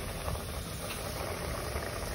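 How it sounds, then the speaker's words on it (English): Steady, dense sizzling of chicken frying in hot oil in a pot, a constant crackling hiss with no talk. "Put my chicken in the hot oil to fry."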